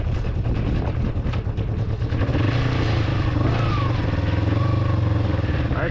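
A Kawasaki Ninja 250 motorcycle ridden at speed, its engine a steady drone buried under loud, constant wind buffeting across the whole stretch, with a slight rise in engine pitch toward the end.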